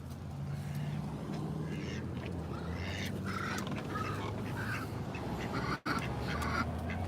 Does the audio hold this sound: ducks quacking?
yes